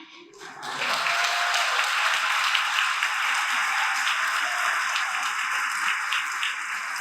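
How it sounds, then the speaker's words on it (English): Audience at a teacher of the year ceremony in Alabama starts clapping after a brief pause and keeps up sustained, full applause from a large crowd, heard alone. "So I want you to clap for my mom and dad."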